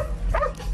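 A dog lets out a short, whining whimper that rises and falls, close and fairly loud, lasting under a second.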